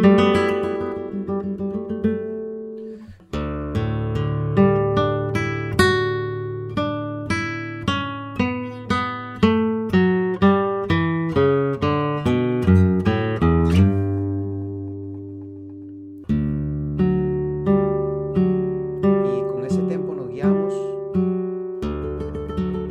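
Rapid plucked flamenco guitar tremolo in quick repeated bursts, a steady rhythmic pattern played fast with a brief pause midway, played alone and fairly loud.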